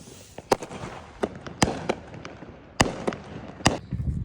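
Consumer fireworks fire a volley of about six or seven sharp shots at irregular intervals outdoors, each a loud crack with crackling and rumble between them.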